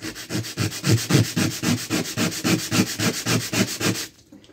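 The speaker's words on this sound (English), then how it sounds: "You got sandpaper here. Fin sandpaper, 45-degree angle." Sandpaper rubbed along a fin edge held at a 45-degree angle gives close, steady back-and-forth scratching strokes in a regular rhythm for about four seconds, then stops.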